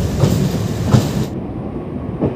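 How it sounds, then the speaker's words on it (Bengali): A MEMU train from Purulia to Howrah on its inaugural run rounds a curve onto the Howrah–Bardhaman chord line, a close, steady rumble and clatter of the wheels on the track. "দেখুন ট্রেন কার্ভ নিয়ে নিচ্ছে হাওড়া বর্ধমান কদ লাইনের সাথে।"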